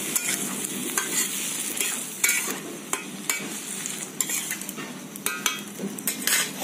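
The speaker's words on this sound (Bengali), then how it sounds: "অল্প একটু জল দিয়ে দিচ্ছি, একদমই সামান্য জল দিয়েছি।" A small splash of water added to a frying pan of spinach and fish head curry brings up a close sizzle, with spoon stirring and metal clinks against the pan in an irregular rhythm and no talking.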